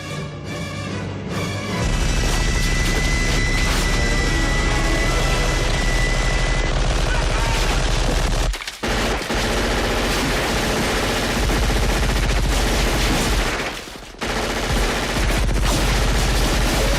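Sustained, loud movie gunfire from the Predator jungle scene, a crew blasting automatic weapons into the jungle with a spinning minigun, a dense continuous barrage with booming low end and two brief breaks.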